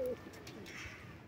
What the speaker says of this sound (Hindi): धूमा कबूतर है भाई ये।